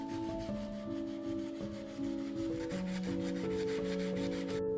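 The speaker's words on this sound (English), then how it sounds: "we take a strip of sandpaper and level out the irregularities after the sander." A strip of sandpaper is rubbed back and forth across an old metal wrench during restoration, making steady, close scraping strokes in a regular rhythm, with no voices.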